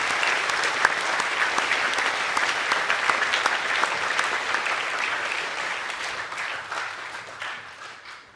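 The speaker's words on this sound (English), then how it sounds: "Can you please give a round of applause for the Academic A+ winners?" Sustained applause from a school assembly audience honouring Academic A+ award winners, dense steady clapping that holds strong for most of its length before gradually thinning and fading near the end.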